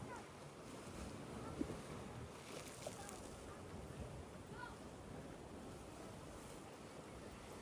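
Rough sea waves roll and wash continuously off Boracay Island in the Philippines in poor weather, a broad surf roar mixed with wind buffeting the microphone, with no clear voices.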